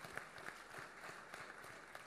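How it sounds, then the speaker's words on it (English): A conference audience at an agricultural development meeting giving a round of applause, a brief, steady patter of many hands clapping that sounds fairly distant and soft. "Let's give him a round of applause."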